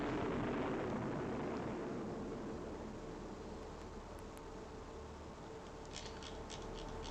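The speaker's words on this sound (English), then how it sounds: "He's got his short-range missiles kicking off." Short-range missiles launching in the naval video game Fleet Command: a steady, roaring broadband whoosh that holds for the whole stretch, dense and rumbling with no distinct separate blasts and no voices.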